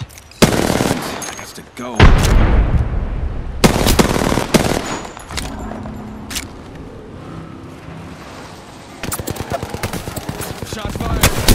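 Rapid automatic gunfire and single shots in the video game Apex Legends come in loud, dense bursts with echoing tails and a quieter stretch between them, while a player speaks briefly.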